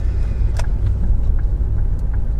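A 1.6-litre Ford C-Max Zetec 16v five-door with 85,969 miles on the clock drives along a road, its engine and tyres giving a steady low cabin rumble with no one talking.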